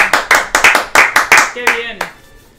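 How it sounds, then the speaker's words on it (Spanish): Audience applause at a seminar on buying a second home, with a brief burst of clapping from a group that fades after a couple of seconds as a voice cuts in. "un aplauso"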